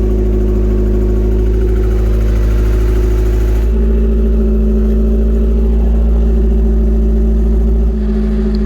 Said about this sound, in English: Having no exhaust on there makes it a bit difficult to tell how quiet and smooth the engine actually is